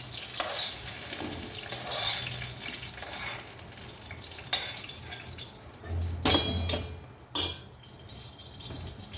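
Ridge gourd pieces and other ingredients fry in oil in a pan, giving a steady close sizzle with a few louder stirring scrapes and clatters near the end, and no voices.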